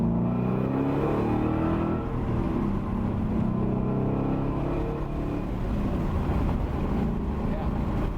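A Revology Shelby GT350 engine rumbles steadily and loudly from close by, a continuous low drone with slight rises in revs and some wind buffeting throughout.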